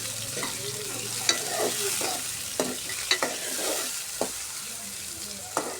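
Onions, tomato and green chillies frying together in a pan, a soft continuous sizzle broken by intermittent spoon scrapes and a few sharp clinks of stirring.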